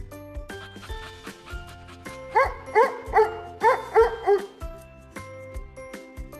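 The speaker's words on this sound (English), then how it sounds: "Dog." Cartoon dog giving a run of short, quick yips and barks in two bursts over a light bouncy backing tune, close and clear with no voices.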